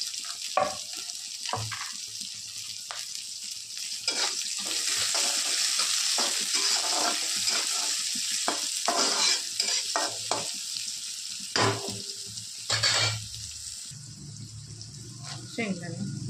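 Cumin seeds, curry leaves and chopped onion fry in hot oil with mustard seeds, a continuous bright sizzle broken by repeated scrapes and knocks of a stirring spoon, while a voice speaks now and then.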